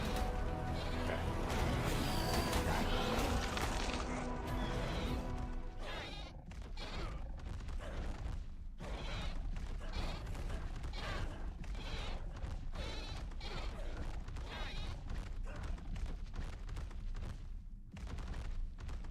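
A goat bleats in ARK: Aberrant amid dense, loud game audio: a steady wash of noise and booming effects, with the bleat mixed in rather than standing alone.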